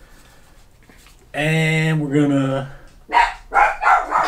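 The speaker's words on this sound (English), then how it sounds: "Dogs, man. She barks." A dog barking indoors: one long drawn-out howling bark, then a few sharper barks in quick succession, close and loud after someone briefly speaks.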